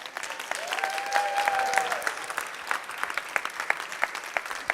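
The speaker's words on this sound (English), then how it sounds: "the rousing applause, stamping of feet, cheering" Seminar audience in a theatre breaking into dense, rousing applause at the end of a show, with a brief whistle near the start. The clapping stays steady and fairly loud throughout, then begins to thin out.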